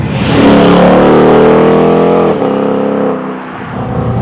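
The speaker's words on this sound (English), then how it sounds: "you can just experience that V8 and this car much more" A Ford Mustang V8 revs loud and close, its deep rising drone climbing and holding before easing off into a lower burble.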